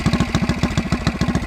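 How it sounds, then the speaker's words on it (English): A 1971 Harley-Davidson Aermacchi Sprint 350 motorcycle runs on its stock exhaust, giving a close, steady, evenly pulsing single-cylinder thump with no talking. "I think it has the best stock exhaust sound I've heard on one"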